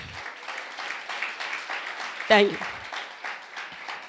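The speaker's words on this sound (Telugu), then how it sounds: "ఒకసారి చప్పట్లు కొడతారా దేవుడిని ఇచ్చినంత." Congregation applauding during a Sunday worship service at a Pentecostal church, a steady patter of clapping that rises briefly in the middle while people talk over it.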